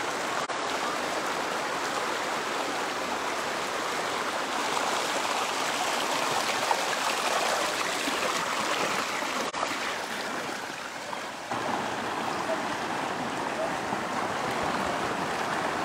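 A river stream flows steadily at Hinaguan Nature Park, a continuous close rushing and babbling of water that holds even in level throughout.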